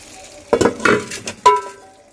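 Water sloshes from a glass into a metal pot of rice for salted cumin rice, in two distinct pours with splashing and a light clink of the vessel, no speech.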